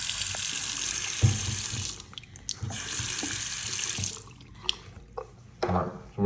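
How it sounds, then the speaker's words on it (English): Water from a kitchen sink faucet gushes in two bursts, switched on and off, with hissing flow, drips and clunks of handling between the runs. "when you turn your sink on"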